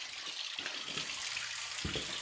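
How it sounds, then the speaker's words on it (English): Water dripping and trickling from a pipe at the back of a faulty steam boiler, a steady wet splatter with a few louder drops, close by, no voices. "We still have water dripping from this pipe."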